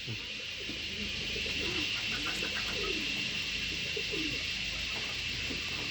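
Homer pigeons, including Beauty Homers, coo softly and repeatedly against a steady background hiss, several birds overlapping in low, rolling calls.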